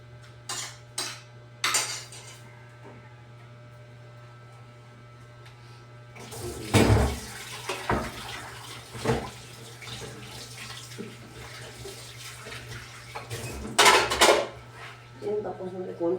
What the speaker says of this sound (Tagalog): Tapos kunti lang naman yung ating hinuhugasan mga kasipag.